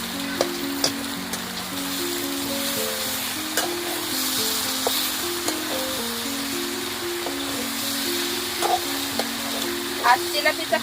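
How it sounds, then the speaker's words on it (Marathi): Tilapia pieces frying in masala in a pan over a wood stove, a steady loud sizzle and crackle throughout with a few stirring scrapes near the end. "हे बघा जिलेबीचे पीस आहे ते आता टाकून घेते."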